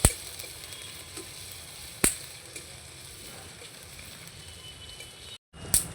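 Grated ginger and cumin seeds fry in hot oil, a continuous close sizzle broken by sharp metallic spatula clanks against the pan, a brief drop to silence near the end, then another scrape.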